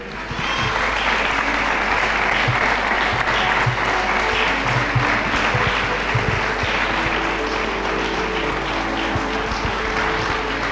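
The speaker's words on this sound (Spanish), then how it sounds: "Den un aplauso para Él." A church congregation claps in loud, sustained applause that fills the room and stays dense and even throughout.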